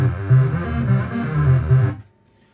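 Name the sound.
Amiga tracker music played through effects input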